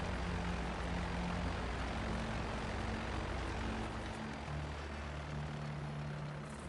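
Aircraft engine in GTA Online, a steady propeller drone with heavy broadband rush, continuous and close, tone shifting slightly partway through, no talk over it.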